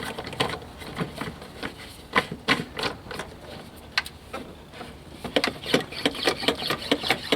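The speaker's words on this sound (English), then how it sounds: "We'll pump her up. You should see the fluid start to come." A Motive Power Motive Power Bleeder is hand-pumped up to push brake fluid on an '86 Toyota pickup, with rapid rhythmic pump strokes clicking and squeaking close by and no speech.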